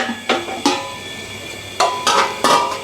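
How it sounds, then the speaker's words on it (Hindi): A cooking handi set down on a lit stove while preparing degi yakhni pulao with buffalo meat; several sharp metallic clanks and knocks, close and loud, spaced out over a few seconds with no talking. "अब एक हांडी रखेंगे"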